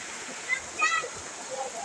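Floodwater rushes through a flooded residential neighborhood in a continuous broadband wash, while nearby voices speak over it and brief splashes rise above the steady flow.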